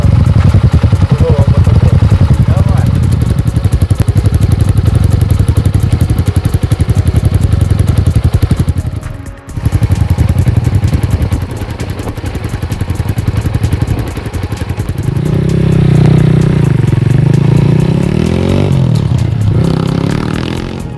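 KAYO T2 and CRX 200 enduro motorcycle engines run loudly and continuously, with rising revs and some clattering, close by for the whole stretch.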